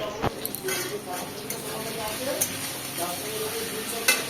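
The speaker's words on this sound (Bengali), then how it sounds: "টমেটো কালো জিরেটা ভাজছি" Tomato and nigella seeds (kalo jire) frying in a pan, a steady close sizzle with occasional stirring scrapes and clinks of a utensil against the pan, with a voice faintly audible beneath.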